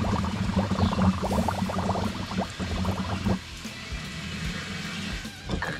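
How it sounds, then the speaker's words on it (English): Water gurgles and bubbles up through a drain hose into the tray of a Yamaha jet boat, a steady rough churning that continues throughout with no talking. "water will come back up in here and it fills your tray up"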